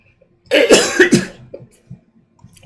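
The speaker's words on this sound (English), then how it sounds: "I'm dying of coughing somehow." A person coughs in a loud, close burst of several quick hacks, followed by a few softer throat-clearing grunts that fade out.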